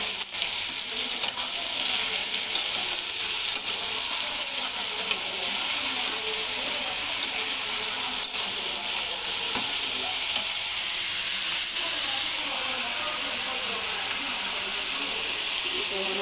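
Ridge gourd tipped into a hot pan and stir-fried, giving a loud, continuous hissing sizzle that holds steady throughout with occasional stirring scrapes underneath.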